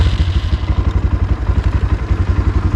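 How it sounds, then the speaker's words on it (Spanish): A Ranger Sahara 300 CRK motorcycle engine runs loud and close just after starting, giving a rapid, even, low thumping pulse with mechanical clatter and no voices. "para encender esta moto hay que embragarle, porque así no enciende."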